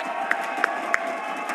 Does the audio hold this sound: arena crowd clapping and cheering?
yes